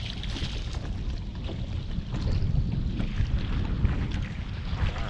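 Cold wind buffets a boat on a lake, a steady loud rushing roar with gusty microphone rumble throughout.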